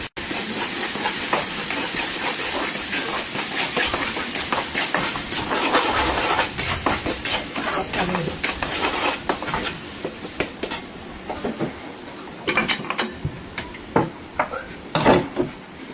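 Brinjal (eggplant) fries with spices in a pan, a steady hiss and sizzle broken by frequent clinks and scrapes of a utensil against the pan, moderately loud with no talk.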